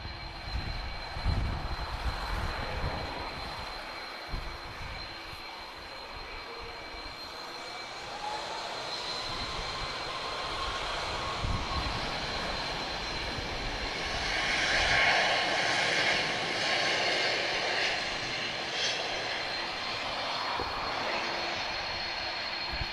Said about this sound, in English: We've got a Global Express BizJet walking towards us, taxiing towards us.